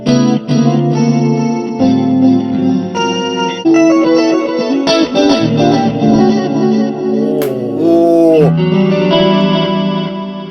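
Guitar through a Zoom multi-stomp CDR+ preset stacking chorus, delay and reverb, played as continuous chords and single-note lines with a shimmering, wide, echoing sustain, loud and close with no talking.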